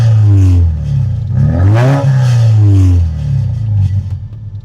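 A Subaru Forester fitted with an aftermarket exhaust muffler revs up loudly and close by. The deep engine note swells and falls in a couple of strong rev sweeps before settling to a rumbling idle.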